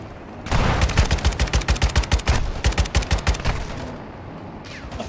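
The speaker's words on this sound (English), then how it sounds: "I thought I shot that guy." Rapid automatic gunfire in a video game, loud volleys of evenly spaced shots for about three seconds, then a lingering rumble as the firing stops.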